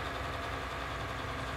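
A tractor engine drones steadily in Farming Simulator, running at a set speed of 20 on an automated waypoint route, with a constant, dense mechanical hum and no change in pitch or pace.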